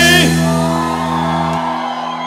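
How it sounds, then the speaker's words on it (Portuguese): A live forró show crowd roars and whoops after a song, a loud sustained cheer rising over lingering tones from the band and fading slightly toward the end. "Quem gostou dá um gritinho."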